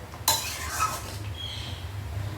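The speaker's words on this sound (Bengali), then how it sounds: "খুব ভালো করে নাড়িয়ে নিচ্ছি" Mutton and potatoes get stirred in a cooking pot, a sharp metallic scrape of a spoon against the pot followed by soft shuffling and faint clinks, close and quiet over a low background hum.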